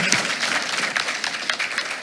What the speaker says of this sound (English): let's give her one more big round of applause.